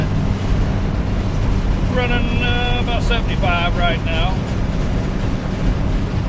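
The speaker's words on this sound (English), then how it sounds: "A little noisy in here, but you know, it is an air-cooled engine." Air-cooled engine in a turbocharged convertible driving at speed, giving a steady loud drone with heavy wind buffeting throughout; someone speaks briefly over it.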